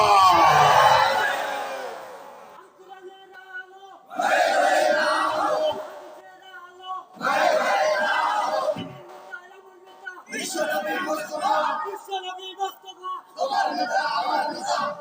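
Crowd at an Islamic religious gathering (waz mahfil) shouting takbir in repeated loud collective bursts, four or five waves of massed voices with a few seconds of quieter pause between them.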